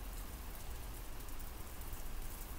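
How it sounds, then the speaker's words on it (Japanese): Video-game rain starting to fall: a dense, even patter of drops hissing steadily across a surface, soft and continuous with no voices. "何か降ってきた。 雨。"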